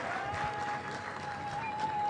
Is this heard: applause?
yes